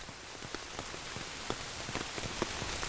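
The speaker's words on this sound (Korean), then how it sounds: "사과밭에 반가운 단비가 내리던 날, 양봉 농장의 벌들도 비를 맞이했습니다." Rain falls steadily on an apple orchard, a dense even patter with scattered louder drops striking leaves and surfaces close by, with no voices.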